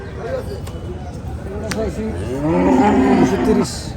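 Cattle at a busy cattle market in Chandina, Comilla, ahead of Qurbani: a single close, drawn-out moo rising after a couple of seconds, over a steady murmur of crowd noise.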